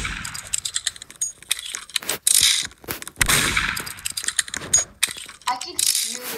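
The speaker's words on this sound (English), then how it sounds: "I can hear the shooting." Gunshots in a 1v1 video game: a dense run of sharp, clicky bursts and mechanical rattles, close and fairly loud, with brief gaps and some talk nearby.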